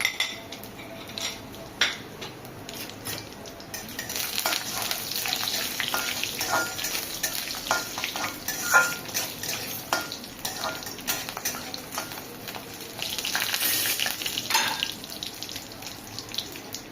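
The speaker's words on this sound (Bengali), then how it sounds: "তেল গরম হয়ে গেছে, এবার আমি কাঁচা লঙ্কা দিয়ে দিচ্ছি, শুকনো লঙ্কা দুটো, এটা জিরা, কালো জিরা" Green chillies, two dry red chillies and cumin with nigella seeds spit and sizzle in hot oil in a pan, a steady close crackle broken by utensil clinks and stirring, with no talking.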